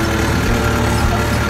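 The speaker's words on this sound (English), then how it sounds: "I'll leave this tractor running." A tractor engine runs at a steady idle close by, a loud, continuous low rumble with an even throb and no other sounds over it.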